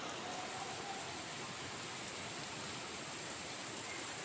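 A steady downpour with hail in the Konkan countryside makes a thick, unbroken roar of falling water, close and constant, with nobody speaking.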